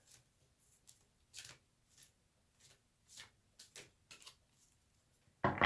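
A deck of cards is shuffled quietly and close by in several short riffling bursts with pauses between them, ending in a louder rustle.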